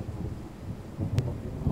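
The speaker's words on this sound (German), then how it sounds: "Huch, der Blitz war aber sehr nah." Thunder after a close lightning strike during a rain shower in Train Sim World 4, a low rumble that swells and rolls under a constant hiss of rain, with one sharp crack midway.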